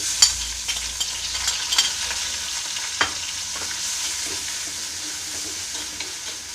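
Crushed onion, green chili and ginger frying with curry leaves in a pan for a Kerala crab roast, a loud continuous sizzle broken by scraping stirs and a few sharp clinks of the spoon against the pan, close up and unaccompanied by speech.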